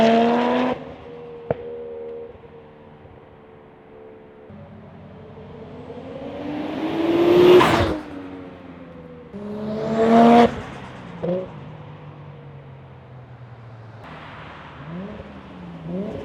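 A Toyota JZX100 with a straight-piped JZ engine rises and falls through several loud revs, its raspy exhaust swelling near and fading between pulls.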